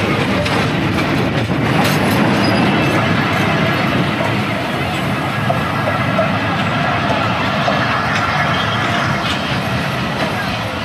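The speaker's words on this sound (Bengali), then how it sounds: "ট্রেনটা এখন আসতেছে।" A train arrives at Jagati railway station in Bangladesh, its loud, continuous rumble and rhythmic clickety-clack of wheels on rails filling the whole stretch close by, with faint voices beneath.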